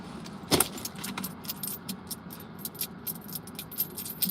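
Coins rattle as they are handled from a small Coach bag inside a truck, with one sharp metallic jingle early on, then light scattered clinks over a low steady rumble.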